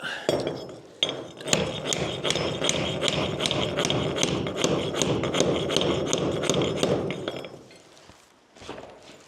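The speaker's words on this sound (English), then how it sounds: "Have to hammer it in a little bit." Rapid, steady hammer blows ring out close by as a shim is driven into a heavy French door frame, a long series of sharp metallic taps that slows and fades near the end.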